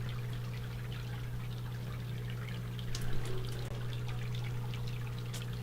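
Water poured and channeled back into a digester tank, a steady trickle over a constant low pump hum, with a brief splashier surge midway; no talking.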